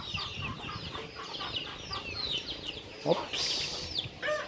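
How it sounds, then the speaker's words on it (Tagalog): Roosters fighting behind a screen give repeated clucks and squawks, with a sudden burst of wing flapping near the three-second mark, while a person speaks and exclaims over the birds. "may tandang dito na nagsasabong"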